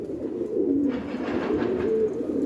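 Soft, low pigeon cooing repeats in a steady murmur, with a faint background hum throughout, in hot weather.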